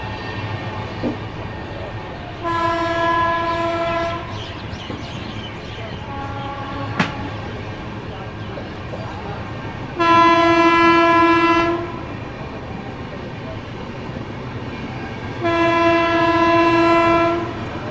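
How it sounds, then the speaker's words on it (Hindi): An Indian express train, the Sampark Kranti Express, overtaking the Kolkata Jammu Tawi Express, loud continuous rail rumble and clatter from onboard with repeated long horn blasts, three sustained honks spaced apart. "चलिए ओवरटेक कर दिया कोलकाता जम्मू तवी को।"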